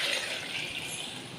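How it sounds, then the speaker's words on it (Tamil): Water poured into a pot of sundakkai kuzhambu, a Tamil turkey-berry curry, makes a steady soft trickling splash that runs unbroken and close for about a second and a half, with no talk over it. "அடுத்து தண்ணி உங்களுக்கு தேவையான அளவு தண்ணியை வச்சிங்க."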